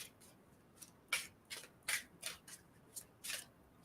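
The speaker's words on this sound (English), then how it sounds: "Tell me when to stop shuffling." A deck of tarot cards being shuffled by hand gives quiet, close, papery riffles and slides in short bursts roughly every half second against a near-silent room.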